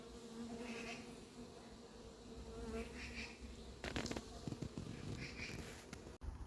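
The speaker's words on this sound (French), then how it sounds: "On constate que les abeilles sortent et rentrent par la porte en bas de la tente." Bees buzz steadily in and out through the lower door of an anti-hornet tent at a hive, a close, continuous droning hum with a few louder passes near the end.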